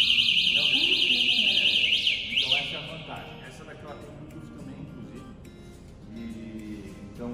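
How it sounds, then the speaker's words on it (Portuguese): A loud, rapidly warbling electronic alarm on a Rise Mode electric scooter chirps for about two seconds as it is activated and then cuts off, followed by quieter beeps and faint background sounds. "Vou ativar o alarme dela."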